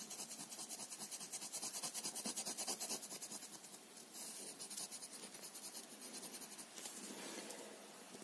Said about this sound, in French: Et après, je peux colorier à l'intérieur